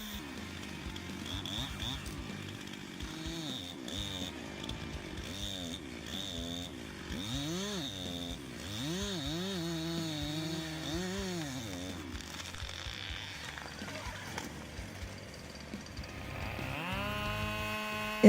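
A Husqvarna 572 XP chainsaw cuts through dry wood, its engine rising and falling in pitch as the chain bites and eases off, running steadily and fairly near throughout.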